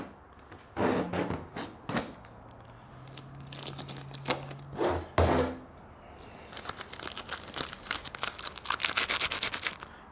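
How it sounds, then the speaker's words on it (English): Masking tape peeled in several quick ripping strips from the silver paint of a car being wet sanded for deep scratches, sharp tearing bursts with pauses between, close and alone. "I will pull this tape line up."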